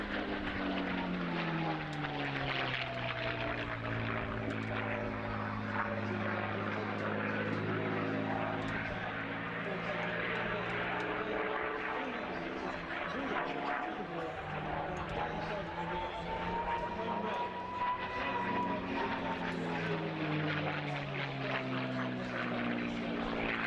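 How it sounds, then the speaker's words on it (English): A North American P-51D Mustang flying at the Daedalus D-Day 80 airshow, its propeller engine droning loudly and steadily with a sweeping pitch shift as it passes, under a commentator's voice. "So this is the amazing North American P51D Mustang being presented for you today by the brilliant John Dodd"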